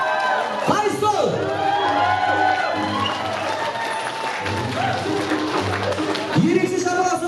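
Guests at a 63rd birthday celebration clap and cheer, with whoops rising over the crowd noise; a voice speaks over the applause at times.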